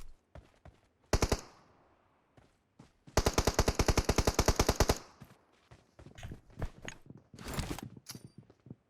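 Gunfire in PUBG Mobile aimed at a hut: a single loud shot, then a long rapid automatic burst, then a few scattered shots with softer shuffling sounds between them, all close and sharp.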